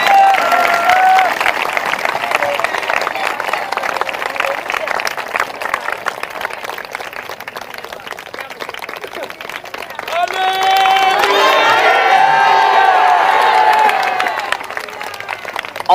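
A church congregation claps loudly and continuously in thanks, dense hand claps mixed with raised voices and cheering, swelling louder partway through.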